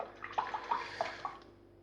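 Cloth being rinsed in water at a basin during a wet shave: a few close splashy sloshes and trickles, fairly soft, with no talking.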